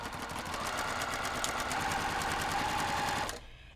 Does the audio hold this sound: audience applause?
no